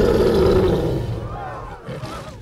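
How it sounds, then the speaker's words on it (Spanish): Animated lion's roar from a cartoon film, a loud, rough sustained roar that swells and then trails off, with brief voices in the background. "¡El rugido, campeón! ¡El rugido!"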